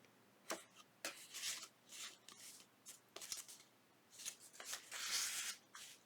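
Junk journal paper pages being handled and flipped down, soft crisp rustles and brushing flutters in short irregular bursts, close and quiet with no talking.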